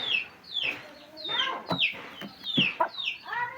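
A hen clucks repeatedly nearby, a series of short, rising and falling calls at an uneven rhythm, fairly quiet, with no one talking.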